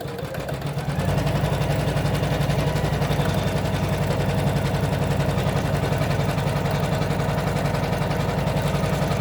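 An electric sewing machine stitching fabric for a castle appliqué starts up and runs continuously with a fast, even mechanical whir and rapid needle rhythm, loud and near, with no talking.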